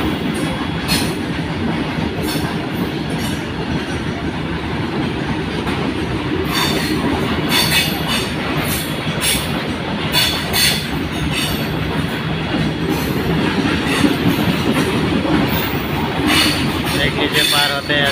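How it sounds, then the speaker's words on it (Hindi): A long freight train rolls steadily past a level crossing on the line from Mori Junction, its continuous rumble and clatter of wagons loud and close throughout, with wheel squeal and rhythmic clicks over the rails. "देखिए पार हो रही है ट्रेन, जा रही है, पूरी मालगाड़ी है"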